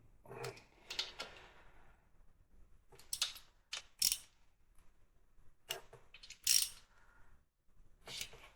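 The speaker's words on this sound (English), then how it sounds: "give us a 1/4-inch ratchet out of the top of the toolbox" A 1/4-inch ratchet tightening cam parts on a Harley M8 engine during a cam swap, giving scattered quick metallic clicking bursts with short pauses between, close and fairly quiet.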